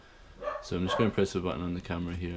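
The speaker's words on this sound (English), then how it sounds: "excuse the dogs and such like." Dogs bark indoors in a home while someone talks beside an iMac Late 2013 setup, a few short barks and yips blending under and between his steady speech.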